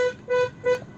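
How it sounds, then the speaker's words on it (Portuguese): A car horn sounds three short, evenly spaced honks, a clear tonal beep repeated in quick rhythm, close and distinct with nothing else over it. "Que buzina é essa?"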